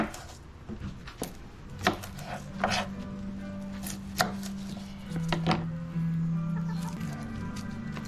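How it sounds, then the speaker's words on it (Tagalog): A knife cuts onion on a cutting board for pink sauce in an outdoor backyard cooking setting. Irregular crisp chopping taps ring out while chickens cluck in the background. "Huwain lang natin ang sibuyas."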